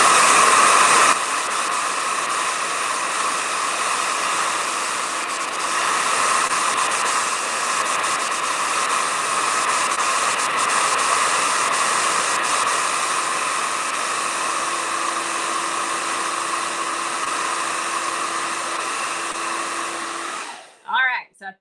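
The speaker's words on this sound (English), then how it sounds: "I'm going to blow dry this." A hair dryer blows steadily on acrylic paint for about twenty seconds, a loud, continuous whooshing hiss close by, then clicks off at the end.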